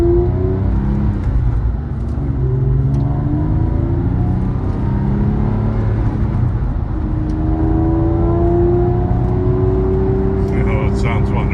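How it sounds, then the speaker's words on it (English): A 2007 Porsche 911 Carrera 4S with its sport exhaust opened up drives along, its engine note climbing steadily through the revs in a loud, continuous drone heard from inside the cabin. "Now we're going to give you a short ride with the sport exhaust and"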